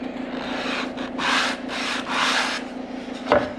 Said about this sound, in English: Little sanding sponge,